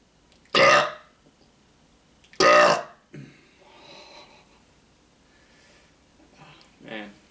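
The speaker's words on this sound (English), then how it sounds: "who knew Kool-Aid would make you burp so much?" A person burps after drinking Kool-Aid through straws: two loud, close belches in quick succession, then quieter breathy, throaty noises and a short final gulp.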